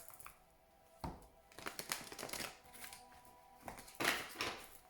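Playing cards being shuffled by hand during a tarot-style reading, giving several bursts of riffling and sliding card noise that come and go over a few seconds, fairly close and with no talking.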